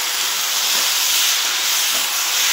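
Kashmiri chilli powder stirred into hot spice paste for an amudi fish and vegetable chorchori gives a loud, steady, close-up sizzle, a continuous hissing fry with no voices.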